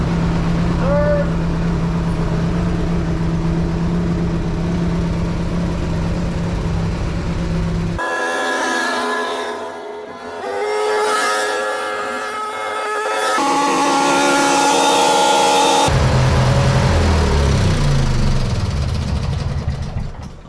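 A John Deere 116 lawn tractor engine runs after a transmission replacement while being shifted through reverse and forward gears, a steady close mechanical drone whose tone changes in distinct sections.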